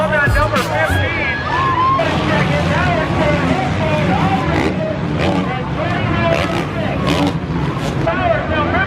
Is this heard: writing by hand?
no